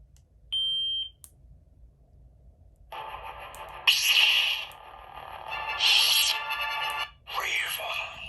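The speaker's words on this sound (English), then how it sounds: "So if you ever hold it down, you get a beep." One short electronic beep from a lightsaber hilt button sounds early on, followed after a pause by louder bursts of buzzing electronic sound.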